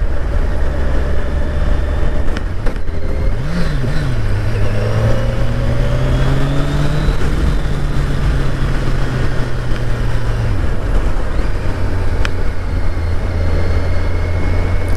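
A 2021 Kawasaki Ninja 1000SX motorcycle engine drones steadily while riding, a continuous loud hum with a pitch that rises and dips as the bike moves along the road, accompanied by constant wind rush.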